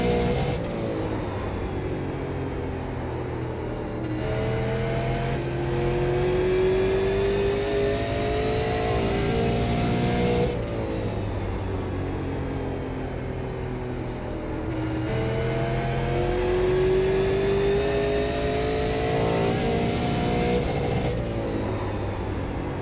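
A Super Late Model race car in the iRacing video game runs a continuous loud engine note. The pitch climbs and falls in repeated laps-long sweeps, with no talk over it.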